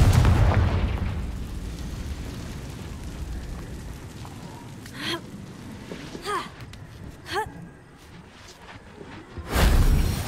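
A Confringo blasting spell going off in Hogwarts Legacy, a rumbling boom at the start with low debris rumble, a few sharp magical bursts in the middle, and a loud final blast near the end.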